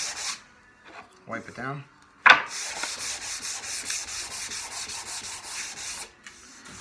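Close hand sanding of wood with 220-grit sandpaper, heard as a rapid, even rhythmic scraping that runs for several seconds after a brief spoken remark and a sharp scrape.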